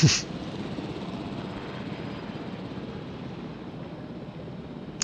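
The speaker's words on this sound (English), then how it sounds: "Park his helicopter on the helipad like that." A helicopter in the video game Jurassic World Evolution drones with a steady rotor and engine rumble, constant and moderately loud, with brief clicks at the start and end.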